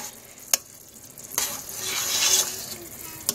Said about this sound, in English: A hard boil is when you stir it and it doesn't stop boiling.